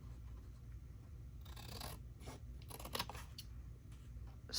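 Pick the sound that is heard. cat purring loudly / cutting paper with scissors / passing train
cutting paper with scissors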